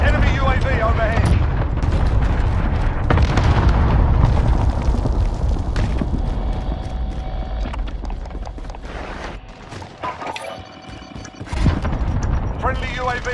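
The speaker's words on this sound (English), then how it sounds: "Allied cluster strike inbound." Cluster strike explosions in the Warzone video game boom and crackle in dense, overlapping bursts with rumbling debris, loud and close, easing into scattered blasts and a final thump.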